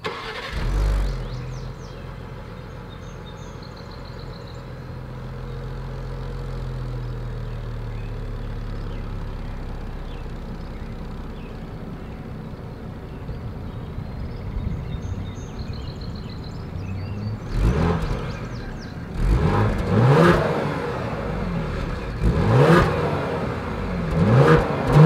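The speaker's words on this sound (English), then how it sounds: "As always, here is that exhaust clip." A 2020 Ford Explorer ST SUV idles steadily, then revs up in several sharp bursts toward the end, the exhaust roaring loud and close.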